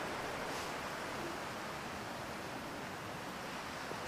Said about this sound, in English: The creek right behind us.